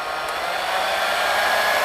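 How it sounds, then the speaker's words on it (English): A hair dryer set to low heat running off an EcoFlow River Pro portable power station, a loud, steady whooshing fan drone, close and constant with no voices. "So if we actually change the heat setting to low on the hairdryer"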